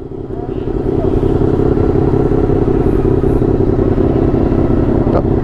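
A Honda Crossrunner 800 motorcycle engine idles close by, a loud, steady, low throbbing rumble that builds in the first second and then holds even, with a faint click near the end.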